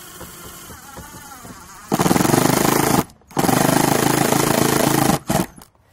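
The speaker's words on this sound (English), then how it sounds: "Now we're screwing in the screws that came with them" Power driver running shutter screws into a house wall, two loud sustained whirring bursts of about a second and three seconds each, with a quieter stretch before them and a short trailing burst.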